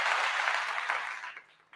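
Short burst of applause on a live stream, dense clapping for just over a second that tapers off, ending with a faint final clap.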